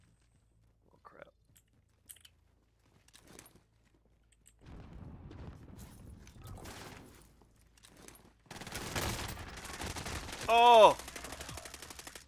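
Call of Duty gunfire: sparse shots and clatter at first, then a dense burst of rapid automatic fire with a loud game sound effect near the end, a brief exclamation from a player.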